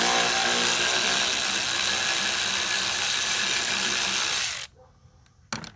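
Rapid, close ratcheting from a wrench backing out bolts on a Toro Timemaster 21199 mower runs steadily for several seconds, then stops, leaving faint handling noise and a brief clack at the end.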